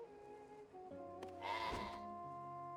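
A goat gives one brief, loud bleat that bursts in suddenly over steady tonal game music and then drops away, with no voices heard.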